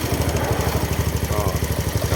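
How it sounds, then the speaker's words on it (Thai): A Honda Dream 125 motorcycle engine idles close up with a steady, even pulse, and a faint rhythmic ticking from the rocker arms rides over the low thrum. "ก็เครื่องยนต์เงียบขึ้นนะครับ มีแค่เสียงไอ้กระเดื่องวาว เล็กน้อยนะครับผม"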